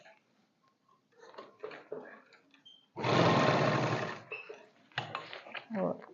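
A sewing machine stitches the joint of a plain-fabric umbrella skirt suit in one loud, steady run of about a second, framed by quiet handling sounds and brief talk.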